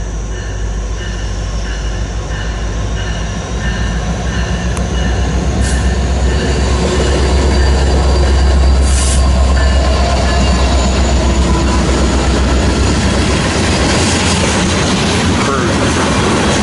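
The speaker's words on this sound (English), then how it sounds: "This is an eastbound, either ethanol or crude train" An eastbound ethanol or crude oil freight train rolls past on the main line at a station, a loud, continuous rumble of wagons with wheel squeal and clatter throughout.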